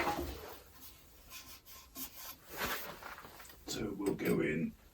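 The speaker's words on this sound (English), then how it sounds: "bit of hand sanding." Soft, irregular rubbing and rasping of sandpaper on a spalted, winged wooden bowl by hand, in short strokes with brief pauses, close and fairly quiet.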